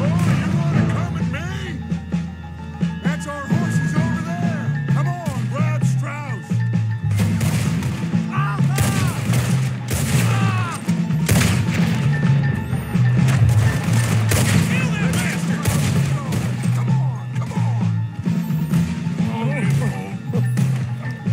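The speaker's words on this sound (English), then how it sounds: "I don't see anyone shooting, but I hear it." Gunfire in Red Dead Redemption 2 rattles in bursts and single cracks throughout, mixed with game effects and heavy overlapping voices of people talking.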